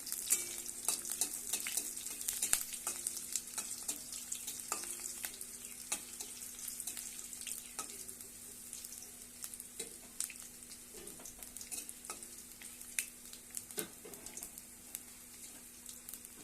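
Panch phoron spices and a bay leaf crackle in hot oil, giving a soft, continuous sizzle broken by frequent small pops and stirring ticks. The sound is fairly quiet and has no speech.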